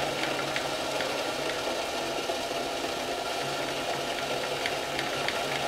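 A homemade twin-cylinder steam engine running on live steam gives a steady, fast mechanical chuffing and clatter with a constant hiss, close and continuous at an even level throughout.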